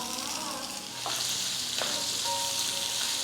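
Lemon pieces with garlic, chilli and ginger sizzle loudly in a pan while being stirred, a continuous close frying hiss with a couple of scraping strokes and no speech.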